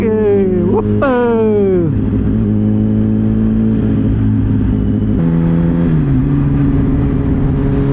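A loud car engine close by, its pitch sweeping up and down as it revs, then settling into a strained, steady drone.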